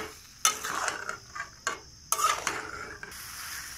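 Prawns being stirred briefly in a pan with spices: three or four distinct bursts of close scraping and sizzling, separated by short quiet gaps.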